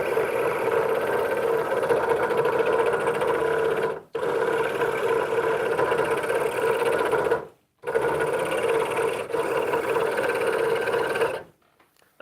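Steady buzzing drone of a scroll saw motor and reciprocating blade, loud and close, running continuously with a few abrupt brief stops and a cut-off at the end.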